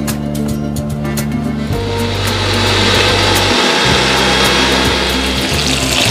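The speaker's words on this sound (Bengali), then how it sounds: "এইটাতে শুধু আদা কুচি আছে, এইটাতে নুন, তেল আর হলুদ দিয়ে এবার এটাকে বেটে নেওয়া হবে।" Ginger pieces with salt, oil and turmeric ground into a paste for Kolkata chicken biryani, a steady loud scraping, rasping grind that runs continuously throughout and grows slightly denser in the second half.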